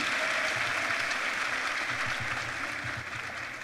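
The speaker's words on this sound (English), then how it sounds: "So give yourselves a round of applause for coming." Audience applause at the Orange Farm EmpowaYouth 2023 main stage, a dense, even wash of clapping from a crowd that holds steady for several seconds and eases off slightly at the end.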